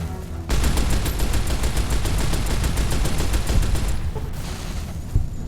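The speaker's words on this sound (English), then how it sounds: "This is a shoulder-mounted machine gun." A shoulder-mounted heavy machine gun fires in the video game Fallout: New Vegas, a loud, steady rapid stream of shots lasting several seconds, then a brief pause and a final burst.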